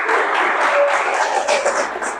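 An audience claps for a speaker, a close, full burst of dense applause that holds steady and then thins slightly toward the end.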